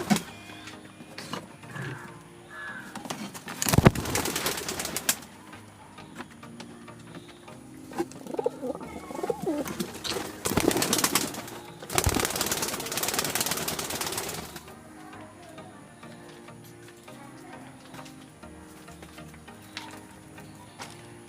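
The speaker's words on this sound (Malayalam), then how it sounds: "അപ്പോൾ നമുക്ക് എന്തായാലും ഇനി നമ്മളുള്ള ആൺപ്രാവിനൊന്ന് പറഞ്ഞ് തുറന്നിടാം" A male pigeon in a loft makes soft intermittent coos and several loud bursts of wing flapping and scuffling, close by, with quieter rustling between.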